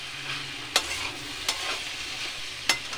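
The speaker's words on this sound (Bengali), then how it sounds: "দেখুন এটাকে ভালো করে একটু ভাজা ভাজা করে নেব।" Boiled potato and peas fry in a little oil in a wok, a soft continuous sizzle punctuated by three sharp clinks of a spatula stirring against the metal, close by.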